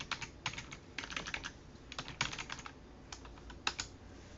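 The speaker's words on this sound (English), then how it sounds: "So whenever you open terminal and type" Quick typing on a computer keyboard to enter a command in a terminal, a close, quiet run of irregular key clicks in short bursts with brief pauses.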